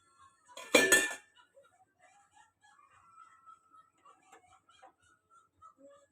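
A single metallic clank of a wok being set down on a gas stove, loud and brief, followed by faint scattered clinks and quiet background sounds.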